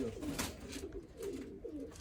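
Pigeons in a breeder's loft give low, repeated cooing that swells and fades in several phrases, moderately near and steady, with no voices.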